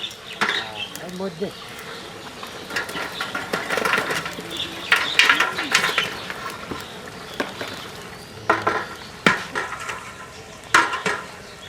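Fried chicken roast is poured into a cooking pot and stirred, with scraping and clattering of a spoon against metal over faint sizzling, punctuated by louder knocks, while voices talk in the background.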